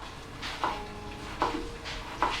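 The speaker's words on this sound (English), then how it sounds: "Saute till the raw smell goes." Ginger, garlic and green chilies sauté in a pan with a soft steady sizzle, and a utensil scrapes and stirs three times at a regular rhythm, close and fairly quiet, with no talking.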